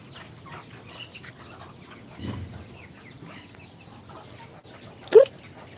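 Chickens clucking softly while being fed, low scattered clucks close by with one sharper louder call near the end.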